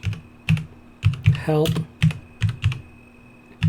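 Keys on a computer keyboard clack in short, spaced bursts as a command is typed into a game chat, with a brief scraping sweep in the middle; no one speaks.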